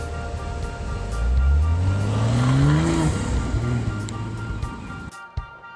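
A BMW 840i xDrive convertible with a 4.4-liter bi-turbo V8 accelerates on the road, its engine note climbing through the gears, then easing off, and ending with a brief thump.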